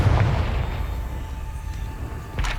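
Confringo fire spell exploding in Hogwarts Legacy on PS5: a heavy booming blast with a rumbling tail, then a fainter second burst near the end, loud and close.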